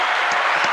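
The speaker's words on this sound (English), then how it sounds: "Let's get a round of applause for that." An audience applauds in a steady, dense wash of clapping, brief and fairly loud with no voices over it.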